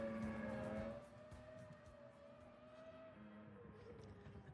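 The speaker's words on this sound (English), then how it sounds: "Oh, listen to that engine." The Renault Espace F1 minivan's engine drones in Gran Turismo on a night lap of Yas Marina, a sustained tonal whine that drops in pitch and fades after a loud first second, then holds steady and faint.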